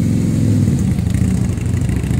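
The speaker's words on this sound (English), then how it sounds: "there's a motorcycle coming" Deep, loud exhaust rumble from a passing Harley-Davidson motorcycle, with uneven throttle pulses as it rolls by close at hand.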